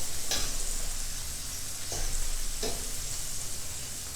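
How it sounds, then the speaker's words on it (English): Guanciale sizzles steadily in a cast iron pan, a constant crackling hiss at moderate level, broken by three brief scraping stirs. "I'm going to lower the heat on the cast iron, because this is getting rendered out"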